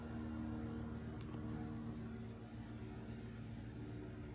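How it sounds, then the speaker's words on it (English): A slow-moving airplane passing overhead gives a steady, low, faint droning hum with a tonal rumble that barely changes throughout, heard alone without talk. "I guess it's a really slow plane."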